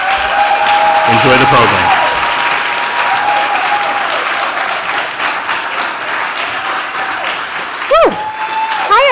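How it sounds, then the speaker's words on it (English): A warm round of applause from a live audience at a talk on Black American history, steady clapping and cheering that holds loud throughout, while a voice speaks briefly over it. "let's give a warm round of applause for Michael Harriot"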